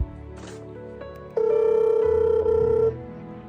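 A telephone ringback tone on an outgoing call plays as one long, steady, buzzing ring lasting about a second and a half, over a low background hum.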